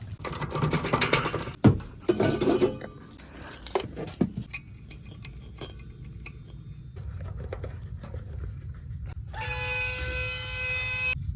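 Nitrogen pressurizing a refrigerant line: a steady hiss builds and continues at moderate level after some scattered clanks and handling noises, with a brighter, louder hiss from a leak near the end.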